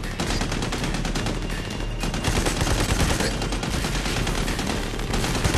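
Sustained, dense machine gun fire from the video game Army of Two: The Devil's Cartel, rapid overlapping bursts rattling loudly and continuously throughout.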